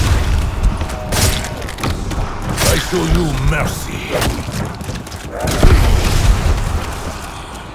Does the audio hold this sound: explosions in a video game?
yes